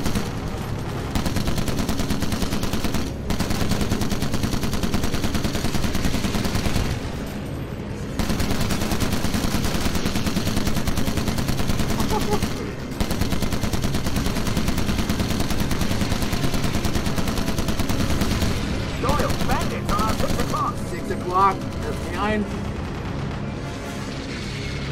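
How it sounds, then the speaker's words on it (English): Sustained rapid gunfire and booming shots from a British campaign battle in the Call of Duty: United Offensive video game, dense and continuous with brief pauses between volleys. "It's a gun."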